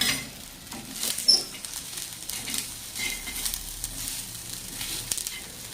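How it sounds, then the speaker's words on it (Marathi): Wheat kurdai chotha with chilli and onion sautéing in a pan over a low flame, giving a soft, steady sizzle with faint stirring scrapes throughout, fairly quiet and with no talking. "आणि याला आता आपल्याला 2-3 मिनटं असं बारीक गॅसवर मस्त परतून घ्यायचं."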